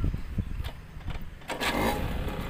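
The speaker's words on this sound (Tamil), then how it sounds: "ஸ்டார்டிங் பாருங்கள், எந்த ட்ரைவரில் ஒரு அடிக்கு ஸ்டார்ட் ஆகுது." A TVS Super XL moped cranks and fires up in a single attempt after a few short mechanical clicks, then settles into a running engine. The sound is close and moderately quiet.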